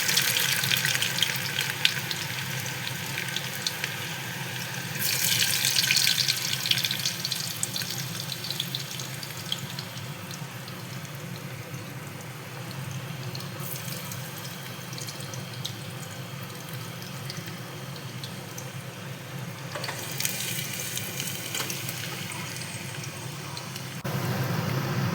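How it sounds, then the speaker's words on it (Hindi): Garlic frying in hot oil inside a pressure cooker gives a steady, loud, broadband sizzle that runs for the full stretch, swelling at moments, with no talking over it. "जैसे ही लहसुन फ्राई हो चुका है"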